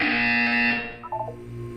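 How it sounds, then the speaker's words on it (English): A loud electronic buzzer from the video game Portal 2 sounds as one sustained tone, fades out, and is followed by a few short beeping blips. "You will hear a buzzer. When you hear the buzzer, look up at the ceiling."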